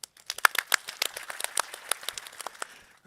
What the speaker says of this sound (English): I really want all of us to give a round of applause to everyone that was out there that helped make this work